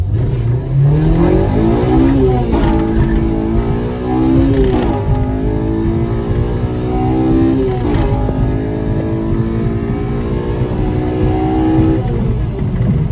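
A Honda Civic DX with a swapped K20Z3 engine and manual conversion accelerates hard on the street, its engine note climbing steadily through the gears with brief dips at each shift, loud and close throughout.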